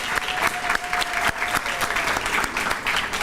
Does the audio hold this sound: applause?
yes